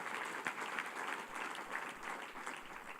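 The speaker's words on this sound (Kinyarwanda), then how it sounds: "Mpera Yesu amashyi menshi." A church congregation claps together, a faint but steady wash of many hands with small swells, heard from a distance.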